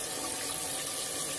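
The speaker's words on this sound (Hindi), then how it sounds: "ये 1 कप मैंने पानी लगा दिया है" A cup of water poured into a pot of chicken handi, a steady splashing hiss of flowing water heard close and alone.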